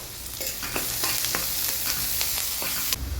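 Curry leaves stripped into hot oil in a pan where a masala is browning, giving a loud, steady close sizzle with light stirring clicks throughout.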